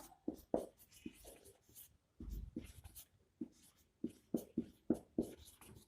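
Writing on a board during a chemistry lesson on buffer solutions and pH: a quick, irregular series of scratchy strokes and taps, close and moderately loud, with brief pauses and no talking.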